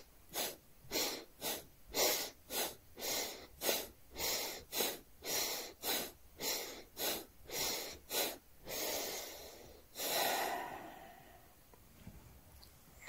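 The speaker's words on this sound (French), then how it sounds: "inspire normalement, expire, on lance le ventre" Rapid, forceful breaths pumped through the nose in a Taoist guided meditation, about fifteen sharp, even bursts close to the listener, ending in one longer exhale and then quiet.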